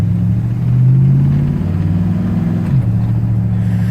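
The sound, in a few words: 1962 Chevrolet Impala engine with loud exhaust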